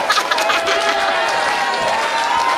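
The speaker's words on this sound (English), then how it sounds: "And the crowd on their feet, very much so behind Ace Romero." A live wrestling crowd in Maine on its feet, cheering, shouting and clapping in a dense continuous roar that carries at a steady level throughout.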